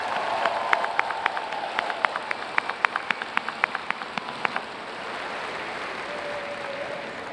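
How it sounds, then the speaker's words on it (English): A commencement audience claps. The sound is a light, scattered patter of distinct individual claps in a large space that fades out after a few seconds into quiet room noise. "we could give them a round of applause."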